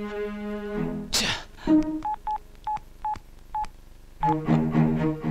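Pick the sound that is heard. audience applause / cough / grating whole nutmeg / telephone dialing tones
telephone dialing tones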